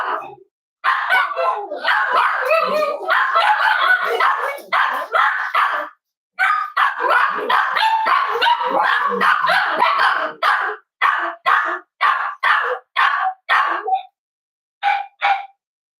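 Several Cavalier King Charles Spaniels bark in rapid, overlapping bursts nearby, loud and almost continuous for about ten seconds, then thinning into separate short yips and barks toward the end.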